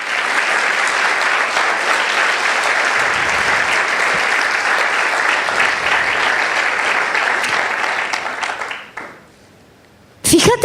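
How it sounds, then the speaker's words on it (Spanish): A church congregation claps loudly and steadily for about nine seconds, the applause thinning and stopping before a brief loud burst near the end. "dale un fuerte aplauso"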